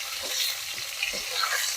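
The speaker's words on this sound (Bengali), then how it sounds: "লঙ্কাটা একটু গ্যাস কমিয়ে ভালো করে ভেজে নেব" Slit green chillies fry in hot oil over lowered heat for a light fish curry, giving a steady close sizzle with a few soft stirring scrapes and no talking.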